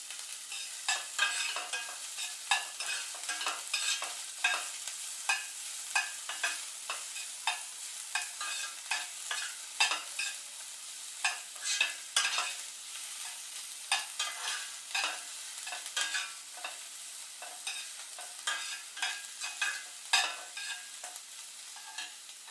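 Onions sautéing in a pan until brown for a dhaba-style paneer masala, with a steady soft sizzle and frequent scraping stir strokes throughout, close up and without talk.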